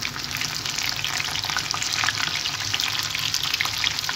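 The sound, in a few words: tofu (tau kwa) frying in hot oil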